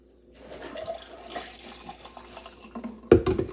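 Juice poured into a glass with a few ice cubes, a steady close liquid trickle ending in a brief louder splash and clink near the end.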